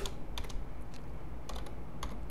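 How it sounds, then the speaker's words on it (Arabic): Typing on a computer keyboard: several quick clusters of soft key clicks with brief pauses between them, close but quiet, over a low steady background hum. "اضغط عادي خالص وابتدي اكتب"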